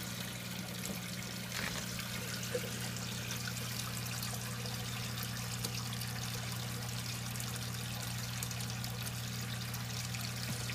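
Water from an aquarium pump and siphon pours steadily into a fish tank during cleaning, a continuous close trickling flow with a low hum underneath, unbroken for the whole stretch.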